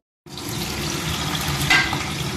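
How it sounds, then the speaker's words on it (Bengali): Paneer fries in white oil in a wok after a short silence, giving a steady hiss with a brief louder crackle, and no one speaks. "আগে একটু পনিরটা ভেজে তুলে নেব।"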